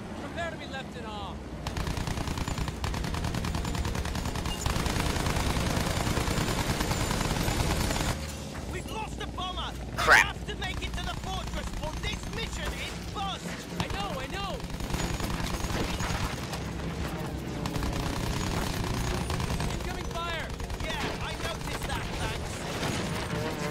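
In the Battlefield 1 plane simulator, machine gun fire rattles almost without pause through a 1917 aerial dogfight, mixed with a droning aircraft engine and game effects, with one sharp impact partway through.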